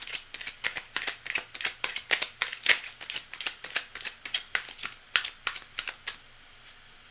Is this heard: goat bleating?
no